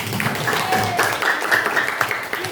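A classroom of students breaks into applause, a steady wash of many hands clapping that runs the whole time at moderate loudness. A few voices and faint squeaky sounds are mixed into it.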